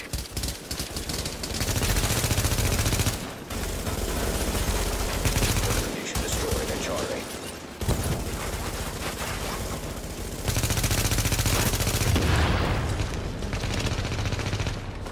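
Sustained gunfire from the video game The Division, with dense rattling bursts and overlapping shots that rise and fall in waves under occasional voices.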